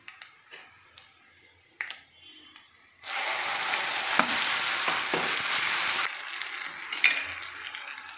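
Turmeric, chili, cumin and salt hit hot oil in a pan with garlic and chilies, bursting into a loud, steady sizzle for about three seconds amid lighter crackles and a few clicks before and after.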